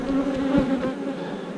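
Honey bees buzz around a hive in a steady, close, continuous hum with no voices.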